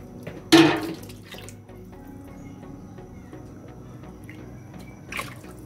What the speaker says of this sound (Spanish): voy a sacarle un poquito de agua.